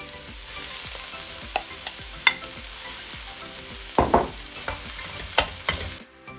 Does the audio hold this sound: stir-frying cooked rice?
yes